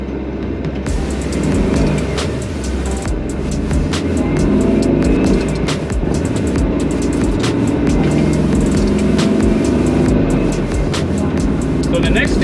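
An old VW bus drives over bumps with a constant loud road and engine roar, scattered clunks and rattles through the body, and talk over it.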